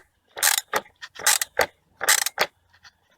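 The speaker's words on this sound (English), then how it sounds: "now we come down to here and we tighten up the battery holder" Ratchet wrench tightening the battery hold-down clamp on a 2011 Volkswagen Jetta TDI (MK6), heard as several close, loud bursts of rapid clicking strokes with brief gaps between them.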